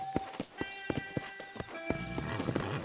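A horse in the Red Dead Redemption video game clip-clopping at a quick, regular hoof rhythm, close by, with a brief whinny and some game audio underneath.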